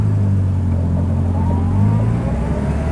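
A cold Morris Minor 1000 two-door car pulls away, its small engine giving a steady, loud low rumble and revving as it gathers speed, close by with no talk.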